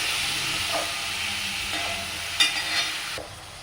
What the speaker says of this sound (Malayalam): അതിലേക്ക് നമ്മൾ അരിഞ്ഞു വെച്ചിരിക്കുന്ന പനീർ ഒന്ന് ഇട്ട് കൊടുത്തു.